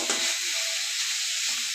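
Leafy greens with green chilli sizzle and hiss steadily in a hot pan while being stirred, a close, continuous frying crackle with scraping stirs and no voices.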